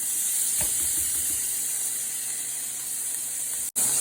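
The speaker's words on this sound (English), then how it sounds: "Get yourself a nice little sear on these mushrooms as well, or a nice little saute." Mushrooms sear and sauté in a hot pan, giving a steady bright sizzle and hiss close by, with a faint clatter early and a brief cut near the end, no voices.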